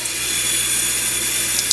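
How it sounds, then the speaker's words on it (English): Water runs steadily from a tap into a sink, a loud, constant close hiss with no break, set up for lukewarm water to bathe a cockatiel. "Turn on the water."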